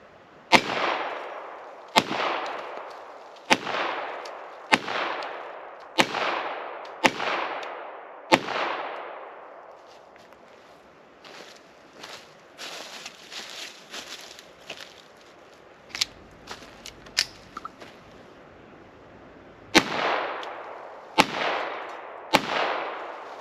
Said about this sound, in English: And that's our little shooting steel demonstration.